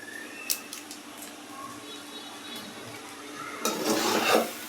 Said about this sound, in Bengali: দিয়ে এখন নাড়াচাড়া করে এটাকে নামিয়ে ফেলবো